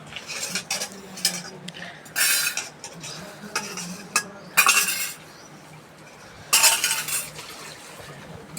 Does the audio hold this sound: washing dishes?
yes